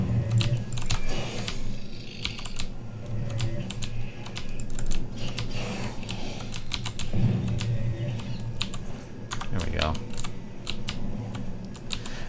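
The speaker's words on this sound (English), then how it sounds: "To hear me just clicking the clicky, super clicky keys. My keys are very clicky." Clicky mechanical computer keys typed in quick, uneven bursts throughout, under a voice talking while an Oblivion game session plays in the background.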